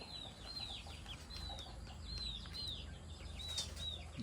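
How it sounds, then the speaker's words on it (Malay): Young kampung chickens about a month old peep in repeated high chirps with some soft wing flapping, faint and fairly close against a low background hum. "Ini ayam kampung kacau."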